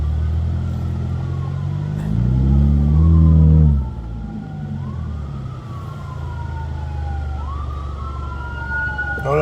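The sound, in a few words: ambulance siren passing on Philadelphia street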